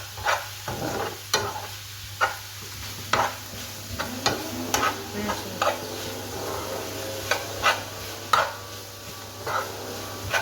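Mallow (khobeiza) being stirred in a frying pan, a low steady sizzle broken by sharp, irregular scrapes and clacks of the utensil against the pan, about a dozen strokes, close and clear.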